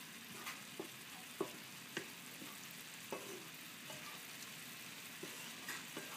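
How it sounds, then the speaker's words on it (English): A mustard sauce sizzles quietly in a pan while a spoon stirs it, a soft, steady frying hiss marked by irregular light clicks and scrapes of the utensil against the pan. "Stir that around."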